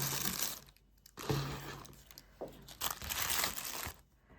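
Plastic baking bags crinkle and rustle in bursts, close up, with short pauses between handlings.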